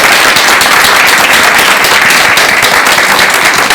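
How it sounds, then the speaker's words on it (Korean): A seated audience at a talk on traditional Buddhist paper flower making gives loud, dense applause that stays steady and close throughout, with no voices on top. "여러분 큰 박수 한번 부탁드리겠습니다"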